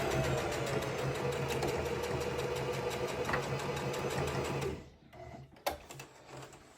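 A sewing machine stitches a ribbon skirt in a fast, steady mechanical whir, close and loud, then stops abruptly near the end, leaving a few scattered clicks and handling noises.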